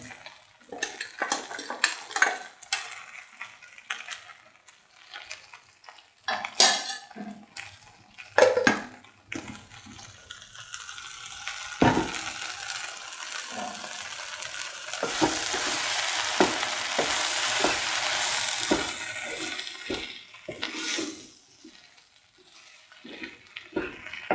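Ground peanut and shallot frying in a pot for an okra peanut stew, a steady soft sizzle building midway, with occasional stirring scrapes and utensil clinks against the pan, close and fairly quiet.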